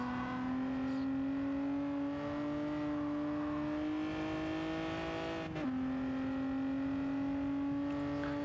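Hot hatch engine in Gran Turismo 7 held in 3rd gear, a sustained high revving drone climbing slowly in pitch, a brief dip around a gear-like change, then steady again, loud and continuous.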